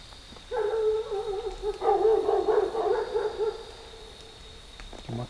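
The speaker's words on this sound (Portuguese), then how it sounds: "que tá acontecendo esses latidos, porque é uma casa mais próxima, né? De cachorro, né?" Dogs bark repeatedly from a nearby house at night beside a cemetery chapel, a run of mid-distance barks and yips over a steady insect-like hum, with no talking.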